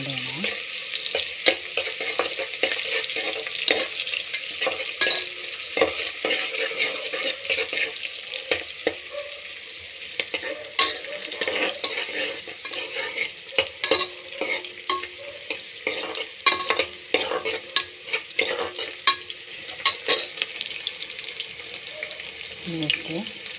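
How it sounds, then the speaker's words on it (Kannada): Bay leaf and chopped onion frying in hot oil for tomato bath, a steady soft sizzle with frequent scraping and stirring clatter throughout, fairly close and without talk. "ಪಲಾವ್ ಎಲೆ ಮತ್ತು ಈರುಳ್ಳಿ ಹಾಕಿ ಚೆನ್ನಾಗಿ ಫ್ರೈ ಮಾಡೋಣ"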